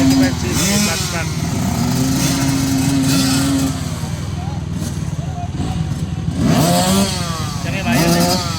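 Small motorcycles at a kids' open flat track race in Lamitan City, Basilan, buzzing and revving in rising and falling waves as bikes pass close by, with voices mixed in over the engine noise.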